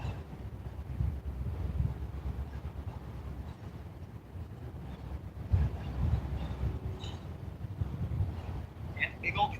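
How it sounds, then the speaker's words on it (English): A big train rumbling past at a distance near a carp and catfish fishing spot, giving a low continuous roar mixed with wind buffeting the microphone and occasional faint squeals. "big old train still going by"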